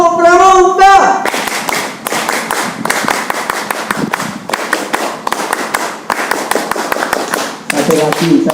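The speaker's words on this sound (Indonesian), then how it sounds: "Kita tutup dengan 3 kali tepuk pramuka." Scouts at a Pramuka anniversary ceremony performing the rhythmic Pramuka clap, sharp patterned bursts of group clapping with brief pauses between beats, preceded by a short spoken or sung phrase.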